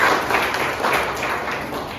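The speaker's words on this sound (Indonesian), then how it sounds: "tepuk tangan buat kita semua" Steady applause from a classroom group, a dense wash of clapping lasting a couple of seconds with no voices over it.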